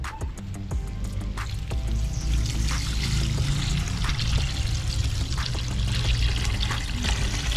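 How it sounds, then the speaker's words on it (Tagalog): A pitcher of water is poured into a pot of soup, a loud, close, continuous splashing pour with gurgling and dripping that lasts several seconds. "So maglagyan tayo ng isang pichal na tubig."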